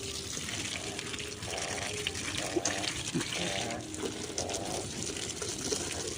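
Tap water pours steadily onto a garden fruit plant bedded with banana waste and manure, a continuous close gushing splash running the whole stretch with faint background noise and no talk.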